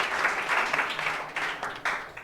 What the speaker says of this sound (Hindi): चलिए ताली बजाइए इसके लिए